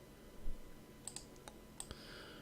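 Several sharp, quiet mouse clicks during a game of Minesweeper on Windows 3.1, spaced irregularly: a pair, a single, then another pair, over a low steady background hum.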